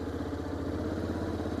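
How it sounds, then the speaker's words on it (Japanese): A Honda X-ADV scooter-style motorcycle with DCT transmission in manual mode runs at low revs, a steady, even engine drone with a low throbbing pulse, close and continuous, with no talking over it. "エンジンに意地悪をして低回転域での粘りなどを確認しているのですが"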